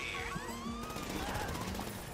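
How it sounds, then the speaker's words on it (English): Gunfire in GTA 5 crackles as a dense, steady burst of shots throughout, mixed with in-game noise and music, fairly loud and continuous. "Why are you shooting?"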